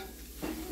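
Lean deer burger meat frying in a pan as the base for chili, giving a short, steady sizzle with a soft hiss and no talking.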